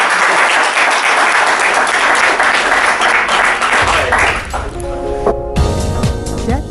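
An audience applauds after a talk on a debt update, dense clapping filling most of the stretch before thinning out, with scattered clinks and knocks near the end.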